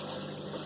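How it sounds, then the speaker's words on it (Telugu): Draining water from a Bosch 6 kg washing machine makes a faint, steady pumping gurgle for a brief moment, with no one speaking. "ఓకేనా, వాటర్ అలా వదిలేస్తుంది."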